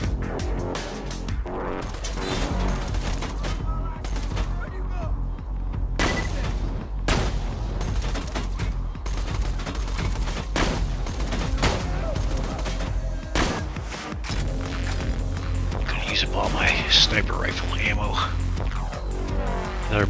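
Gunfire in the video game Borderlands 2, with rapid automatic bursts and single shots, loud and near, plus explosions and a player talking at times over the fighting.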